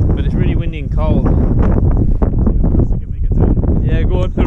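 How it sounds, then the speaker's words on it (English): Strong gusty wind on a cold hilltop buffets the microphone with a heavy low rumble while people talk over it outdoors. "But it's really windy and cold."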